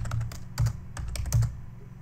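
Quick bursts of keystrokes on a computer keyboard as a terminal command is typed, a few soft clicks and a couple of louder taps spread over two seconds, close and quiet with no talk.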